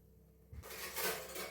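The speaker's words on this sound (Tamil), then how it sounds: "இப்போ குழம்புக்கு தகுந்த மாதிரி தண்ணி சேர்த்துக்கோங்க." A burst of water splashing and pouring into a pot of dried fish curry, a steady rushing flow following a brief clunk of cookware.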